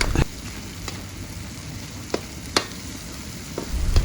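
Corned beef and sliced hotdog fry in a pan while being stirred, a steady close sizzle with a few sharp utensil clicks against the pan and no talking.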